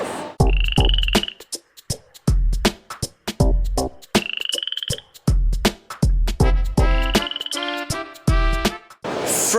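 Frogs croaking loudly and close at a reptile expo, with repeated harsh calls in bursts, some with trilling, rattling pulses, filling the whole stretch with short pauses between calls.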